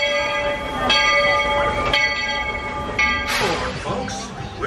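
A Magic Kingdom monorail passes nearby with sustained horn-like tones and ringing bell chimes over a steady rumble, with sharp clanks marking its movement.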